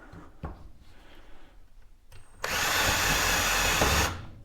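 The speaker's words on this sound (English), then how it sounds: "You could pretty much just let the drill bit and let the drill do the work." A Ryobi P271 cordless drill set to its highest torque setting of 24 whirs loudly as it drills for about two seconds, after a few quiet handling clicks.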